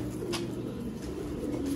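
A pigeon chick coos softly a few times, faint and close, over a low steady background hum.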